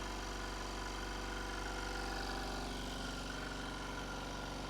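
A nearly new air compressor found at a landfill runs quietly and steadily, a continuous even motor drone with a low pulsing hum and no pauses or speech.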